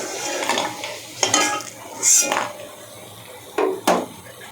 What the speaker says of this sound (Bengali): আমার বড়ি ভাজা হয়েছে এখন আমি তুলে নিচ্ছি